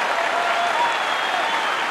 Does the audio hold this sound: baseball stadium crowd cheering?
yes